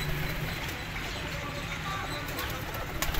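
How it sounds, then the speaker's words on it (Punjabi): Pigeons from a flock of about 35 coo softly in low, steady murmurs that continue throughout, with faint background noise. "ਇਹ ਵੀ ਮਾਸ਼ਾਅੱਲਾ ਸ਼ਾਬਦਾਰ ਆ ਕਬੂਤਰ।"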